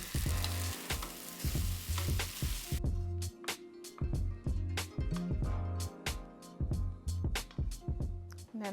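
Shrimp fried rice sizzling loudly in a hot pan, with a rhythmic run of spatula scrapes and clanks as the rice and shrimp are tossed together, close up with no talking.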